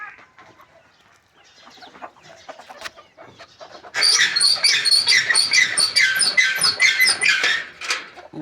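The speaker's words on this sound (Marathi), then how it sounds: "आता कोंबड्या सोडी ते" Hens clucking close by, a busy overlapping chorus of clucks that grows louder partway through, with softer scattered bird sounds before it.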